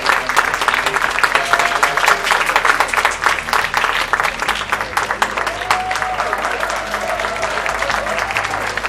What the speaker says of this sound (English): So another clap for Natalia